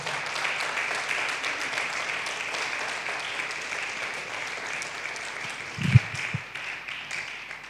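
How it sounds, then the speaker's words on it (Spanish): Steady applause from a church congregation at a worship service, a sustained wash of many hands at moderate volume, with a few low thumps and bumps near the end. "Un aplauso."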